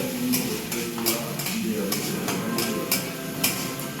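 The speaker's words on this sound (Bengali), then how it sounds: "ফোড়নটা দিয়ে একটু ভেজে নেবো লাল লাল করে" Garlic and whole spices for a tempering fry in hot oil, a steady close sizzle with scattered bright stirring scrapes of a utensil against the pan, no talking.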